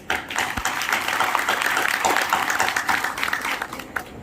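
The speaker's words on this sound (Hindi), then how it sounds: "हम चाहते हैं सबसे पहले आप लोग जितना तेज अपने लिए ताली बजा सकते हैं" Audience at a Hindi-language rally of a BDC pradhan association gathering clapping hard on request: loud, fast, crowded applause that holds steady and tapers slightly near the end.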